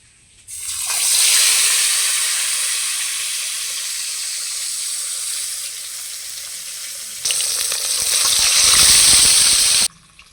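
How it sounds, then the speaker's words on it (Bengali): A loud, steady sizzle of small pond fish frying in hot mustard oil, cutting off briefly and then flaring up again before stopping abruptly. "মধ্যে মাছগুলোকে এখন ভেজে নেব"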